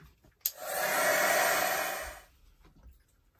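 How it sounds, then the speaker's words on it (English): A heat gun blows steadily for about two seconds to dry ink on an art journal page, a loud, even whoosh of air that starts with a click and then cuts off. "I'm going to give it a blast with my heat gun"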